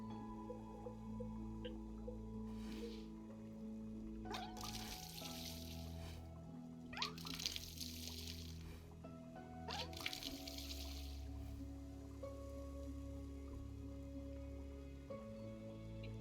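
Soft repeated dripping and splashing as plants are watered in the cozy game Wanderstop, with gentle game music tones running steadily underneath and a few brighter watery bursts.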